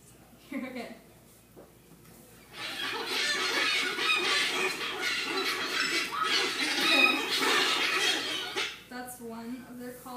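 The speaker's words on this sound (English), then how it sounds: "That's one of their calls." Seabird call: brief faint squeaky notes, then a long, loud, rasping, noisy screech lasting about six seconds, followed by a few short harmonic yelps.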